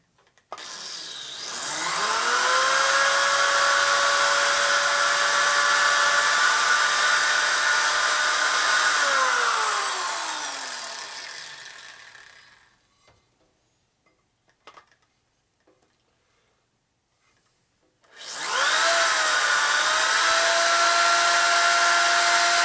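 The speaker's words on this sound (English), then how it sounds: "Definitely drilling" A power drill whirs loudly and steadily during a 1946 Harley-Davidson knucklehead motor rebuild, winds down and stops, then after a pause of near silence starts up again.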